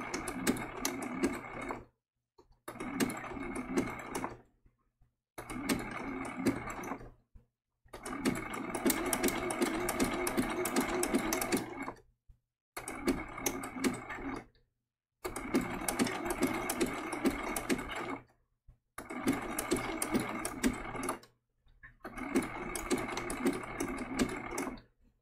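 A sewing machine zigzag-stitches an applique, running in eight bursts of fast steady whirring and needle clatter, each separated by brief pauses as the work is rotated.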